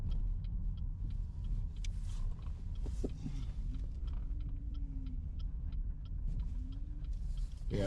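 A 2012 Chevy Impala with ABS trouble on a short drive with a sharp turn, giving a steady low road rumble and engine drone throughout, close and continuous with no talk.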